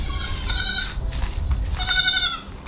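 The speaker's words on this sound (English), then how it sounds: "it's going to be loud because we have baby goats in lockup and it's going to be crazy loud" Goats and young kids penned in a barn bleat loudly in two drawn-out, nasal calls, close to the listener over a steady low background rumble.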